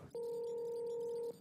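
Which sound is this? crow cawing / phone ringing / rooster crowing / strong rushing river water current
phone ringing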